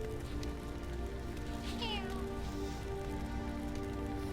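A house cat meows for attention with a short rising call, faint and partly buried under a steady broadband hiss and background hum.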